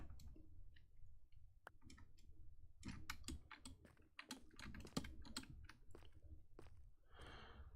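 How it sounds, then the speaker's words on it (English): Quiet, close clicking of a noisy computer keyboard during a Minecraft modpack session, keys tapped in irregular bursts and rapid runs with brief pauses, no talking. "I can hear my keyboard click-a-clacking the entire time"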